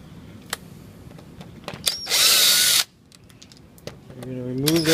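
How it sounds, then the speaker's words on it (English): A power drill backs out screws from the corner pivot of a casement window, one loud sustained whir of under a second amid small clicks and handling noise, with a voice heard briefly at the end. "You're going to remove those 3 screws."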